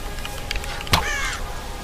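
A bird caws once inside the video game Tomb Raider Definitive Edition, one sharp call rising over a steady ambient game background.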